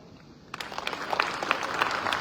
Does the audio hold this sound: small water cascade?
no